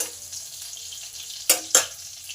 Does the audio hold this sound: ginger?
yes